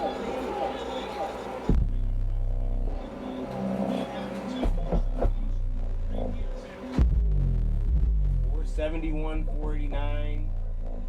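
An Audiopipe TXX-BDC4-10 quad stack of 10-inch car subwoofers plays heavy, sustained low bass tones that shift in pitch and pound loudly throughout, with someone talking over the later part.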